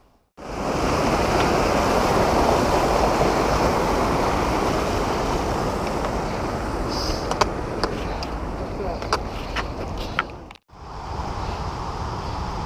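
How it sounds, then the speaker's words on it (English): Snowmelt-swollen mountain creek at flood stage below Island Pass on the John Muir Trail, a loud, continuous broadband roar of rushing whitewater, close and steady for the whole stretch with a brief dropout near the end. "I think this creek is officially at flood stage."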